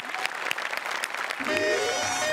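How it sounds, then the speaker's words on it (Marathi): An audience claps loudly for performers called onto a stage, scattered hand claps at first that quickly build into dense, sustained applause. "जोरदार टाळ्या यांच्यासाठी"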